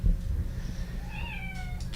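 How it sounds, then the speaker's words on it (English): A house cat named Pippin meows several times from a doorway, drawn-out rising calls at moderate distance over a low background rumble, with no talking. "He's just gonna stand in the doorway and meow at us."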